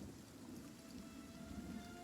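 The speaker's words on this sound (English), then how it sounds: "You'd think these rains would be a boon for the crops." Steady rain falling in the fantasy video game Pillars of Eternity, a continuous soft wash of drops with a low rumbling undertone and no voices.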